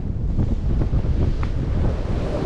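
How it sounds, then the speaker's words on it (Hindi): Strong wind howls in a snowstorm, buffeting the microphone with loud, rumbling low gusts that stay close and continuous throughout, with no talking. "बहुत ही जोर से हवा चल रहा है।"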